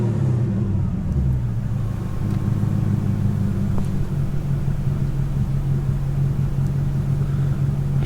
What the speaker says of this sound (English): It usually doesn't do this high idle thing.